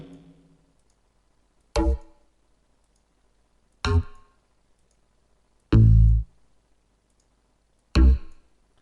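A bass sound built by layering six separate basses in FL Studio plays four short, punchy notes spaced about two seconds apart, with deep low-end thumps and a clicky attack, close and clean with no voices.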